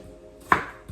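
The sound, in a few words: chopping onions with a knife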